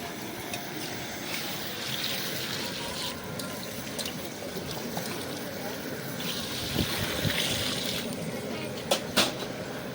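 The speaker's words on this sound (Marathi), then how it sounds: "गार पाणी वतलं की मटण डांडा शिजायला लय होतं, त्यामुळे गरम पाणीच वतायचं" Hot water pours into a large pot of village-style mutton curry being cooked in bulk for a fair feast, a steady broadband splashing and gushing with a few sharper clinks near the end, fairly loud and continuous.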